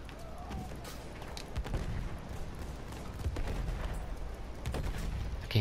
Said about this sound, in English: They're shooting the blimp